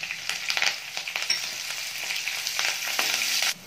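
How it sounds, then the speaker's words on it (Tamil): Green chilies and curry leaves fry in hot oil for a murungai keerai ragi adai, giving a steady close crackling sizzle with scattered sharper pops and no talking. "பச்சை மிளகா கருவேப்பிலையெல்லாம் நல்லா வதங்கிடுச்சு"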